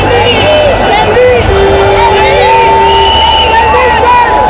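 A large crowd cheers at a presidential inauguration, loud and close, with shouting, whoops and babble of many voices blending into a dense, continuous roar throughout.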